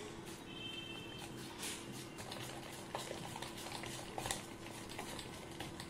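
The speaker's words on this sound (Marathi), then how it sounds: "पीठ छान फेटून घ्यायचं आहे आणि मग नंतर पाणी टाकून ते पातळ करून घ्यायचं आहे।" Gram flour batter being whisked with water in a bowl for chickpea dhirade, a steady wet stirring and slapping patter that runs close and continuous with no talk.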